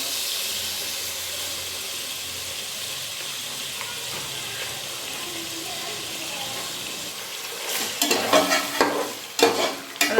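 An onion mixture with biryani paste sautés in a pan for Hyderabadi biryani, a low continuous sizzle with faint scraping that turns into louder clattering stirring knocks near the end, with no talk.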